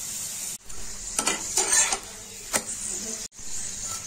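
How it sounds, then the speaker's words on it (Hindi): A paratha roasting in ghee on a hot tawa gives a steady close sizzle, with a few scraping, stirring clatters of a spatula as it is turned and pressed, and brief breaks in the sound. "पराठे में घी डालेंगे। पराठे को घुमा घुमा कर सेकेंगे।"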